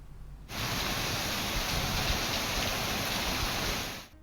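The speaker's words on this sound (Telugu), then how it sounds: "ఇకపై జోరుగా వానలు కురవనున్నాయి." Monsoon rain falls in a steady, dense hiss that starts abruptly, holds evenly for several seconds and cuts off at the end, with no voices.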